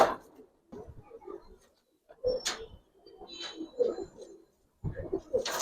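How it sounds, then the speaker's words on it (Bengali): Domestic Giribaz pigeons, including coloured and khaki birds, coo in soft, low bursts at close range, broken by short pauses, with someone talking over parts of it. "তো দুটা কবুতর আমরা দেখাই।"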